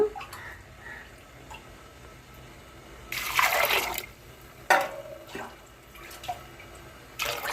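Water splashes into a pot of soaked chana dal in a kitchen, several separate pouring bursts of rushing liquid with quiet pauses between them.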